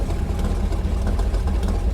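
The 392 Hemi V8 of a 1940 Ford custom hot rod idles nearby with its exhaust open, a steady, deep, loping rumble with a slightly uneven pulse.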